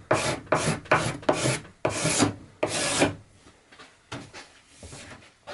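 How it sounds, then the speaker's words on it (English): Hand smoothing of a wooden workbench board surface, a series of short raspy rubbing strokes in a quick uneven rhythm, close and fairly loud at first, then fading into softer, sparser scrapes. "With some minimal smoothing, that should leave the surface as close as possible to coplanar with the board face."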